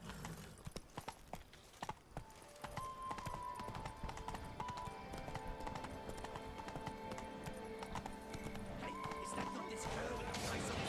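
Roach, a horse in The Witcher 3, gallops with a fast, steady clip-clop of hooves, loud and close, while a person talks over the game sounds.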